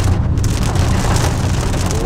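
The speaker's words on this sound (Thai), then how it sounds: "โอ้ฝนตกอีกแล้ว" Rain falling outside a car in Thailand, a dense, steady hiss that stays loud and constant the whole time.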